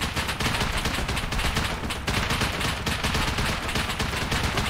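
Automatic turret in the survival game Rust firing continuously in dense rapid bursts, a loud unbroken chatter of gunfire throughout with only a brief dip partway through.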